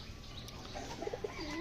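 Pigeons in a home loft give a few soft, low coos in a brief run, fairly faint against steady background noise, with no voices.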